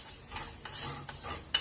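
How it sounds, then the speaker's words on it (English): Common white rice being stir-fried over high heat, stirred and scraped in a hot pan, with a soft steady sizzle and occasional utensil clinks against the metal. "I'm stir frying here this common white rice."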